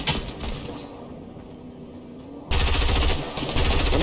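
Automatic AK rifle fire in Fortnite, a sustained loud burst that breaks in suddenly after a quieter stretch and keeps rattling to the end.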